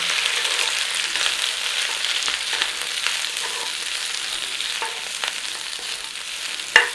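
Chicken and cabbage stir-fry, seasoned with a little salt and sugar, sizzles loudly in a hot pan, with occasional scrapes and stirring knocks and a sharp clatter near the end.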